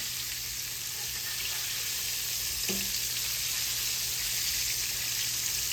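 Liver frying in a pan with onions in gravy nearby, a loud, dense, continuous sizzle up close, with a brief soft knock partway through as the slices are flipped.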